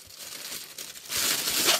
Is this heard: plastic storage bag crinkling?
yes